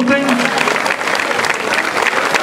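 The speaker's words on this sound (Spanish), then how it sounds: "el aplauso bien fuerte que se escuche" Loud, steady applause from a festival crowd at a mariachi performance in San Bartolomé, La Galga, dense clapping throughout with a brief tonal sound at the very start.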